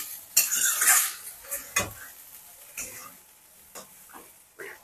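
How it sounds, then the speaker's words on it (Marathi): Boiled noodles are stir-fried in a pan for chicken hakka noodles, with uneven bursts of utensil clatter and scraping over a light sizzle. "नूडल्स पण ह्याच्यामध्ये आपल्याला परतून घ्यायचे आहेत."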